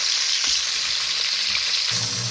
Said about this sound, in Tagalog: nagpiprito ako ng isda